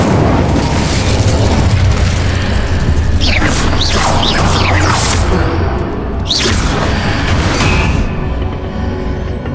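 Incendio fire spell bursts in Hogwarts Legacy: loud whooshing fiery blasts and booms layered over dense, constant game combat sound.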